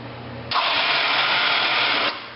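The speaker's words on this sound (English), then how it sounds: "Turn the winch on. Okay, we're going to bring it up with the winch." An ATV winch on a Polaris Sportsman 500 hauls up a mounted snow blower, giving a steady, loud electric whir that starts abruptly and runs evenly for about a second and a half before cutting off.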